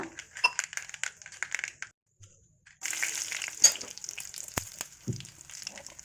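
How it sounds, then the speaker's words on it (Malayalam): Crackling and popping of mustard seeds and dried red chillies frying in hot oil, close by, with a sizzling burst and scattered clinks. "കടുക് പൊട്ടി വരുമ്പോൾ രണ്ട് വറ്റൽമുളക് ഇട്ട് കൊടുക്കുക"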